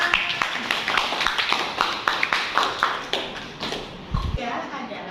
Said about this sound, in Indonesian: Mari tepuk tangan untuk Isan.